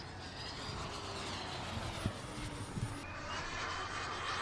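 A radio-control model A4 jet makes a high-speed pass at an outdoor air show, a steady rushing turbine roar with a faint descending whine, moderately distant and constant throughout.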